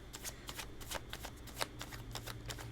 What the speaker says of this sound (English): I'm not going to stop shuffling until I know no more cards are coming out.